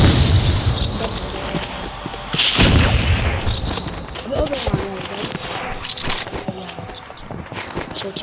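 RPG rocket blast in a shooting video game, a loud booming explosion near the start with further thuds and gunfire-like bursts, heavy game noise under a talking player.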